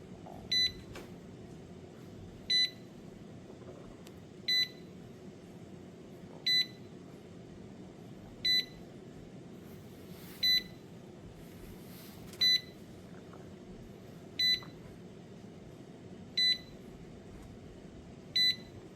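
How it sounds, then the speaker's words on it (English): A kitchen timer on a potato canning day beeps about ten times, each short chirp spaced evenly every two seconds over a quiet background hum. "And so the timer has stopped."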